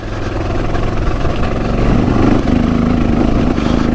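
Honda XR650 dirt bike engine running loud and close while riding, a rough, steady drone that rises in pitch as it revs.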